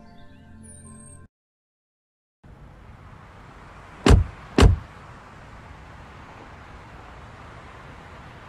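A car door at a 5G V2X demo, heard as two sharp, loud thumps in quick succession after a short silence, set against a steady low hum from the car's cabin.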